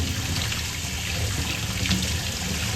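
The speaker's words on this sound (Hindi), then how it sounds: "पोटली बना के आप इसको धोइए ज़रूर, इस तरह से धो लीजिए" A cloth potli bundle of fennel and coriander seeds is rinsed under a running kitchen tap, giving a steady close splash and gush of water that continues without pause and without any talk.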